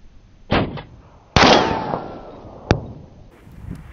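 An SKS Yugo rifle fires Tula ammunition at a 500-yard target outdoors, a sharp loud shot with a long rolling echo, plus another crack before and a short snap after.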